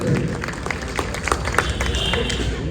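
Audience applause at a political gathering of a workers' cell, a dense steady patter of clapping from a crowd that holds at an even level throughout.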